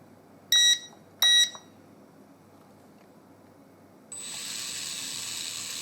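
A Syma S100 2.4GHz micro RC helicopter with contra-rotating blades powers on. Two short electronic beeps sound, then after a pause a thin, high motor whine starts abruptly and holds steady, close by.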